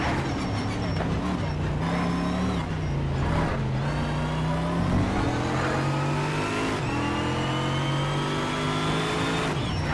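A car's supercharger whines over a steady, loud engine drone with rising and falling pitch as it revs through gears in the racing game Need for Speed: SHIFT, on an exotic mixed track competition.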